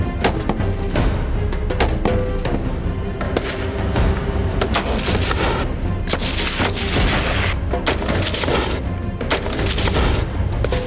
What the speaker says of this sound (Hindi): टीम तुर्की को मुख्तलिफ वेपन से भी फेमिलियराइज कराया गया, जिससे उन्होंने मुख्तलिफ फायर आर्म्स की रेंज का अंदाजा लगाना है।